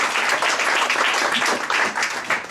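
An audience gives a big round of applause for someone standing up at a LULAC gathering, a short burst of dense, fairly close clapping that holds steady throughout.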